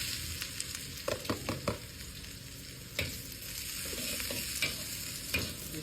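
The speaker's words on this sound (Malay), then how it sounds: "Minyak dah panas. Okey, kita masukkan tadi sedikit bawang putih dan juga irisan" Oil sizzles steadily as garlic and shallots fry, with occasional scraping and clinking of a utensil stirring the pan.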